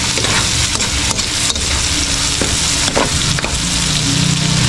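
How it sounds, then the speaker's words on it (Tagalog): Garlic and onion sauté in hot oil in a very hot pan, a loud steady sizzle broken by the scrape of stirring, close and without talk. "Gigisa natin ng maigi para lumabas yung natural na lasa ng bawang sibuyas."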